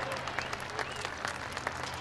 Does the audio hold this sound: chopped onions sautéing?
no